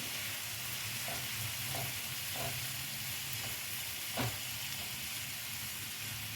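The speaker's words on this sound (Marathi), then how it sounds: "परतून घेऊ परतायच्या आधी मीठ घालू" Wild leafy greens sizzle steadily in a hot pan with salt added, while a few soft scrapes of stirring break through the quiet, even frying hiss.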